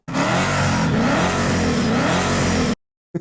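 A car engine revs hard and loud, a steady roaring growl for nearly three seconds before cutting off abruptly.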